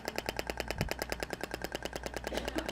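Thork Ibramed shockwave therapy device firing a steady, rapid train of sharp mechanical pulses, evenly spaced like a fast ticking clatter, loud and close with a low hum beneath and no talk.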